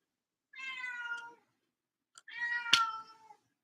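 A house cat meows twice in long drawn-out calls with a short gap between them. The first meow sounds near and clear, and the second is a little louder and ends on a sharp knock. Quiet silence surrounds both calls.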